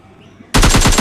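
AKM assault rifle fire in PUBG Lite: after half a second of near quiet, a loud, close burst of rapid automatic shots erupts and runs steadily to the end.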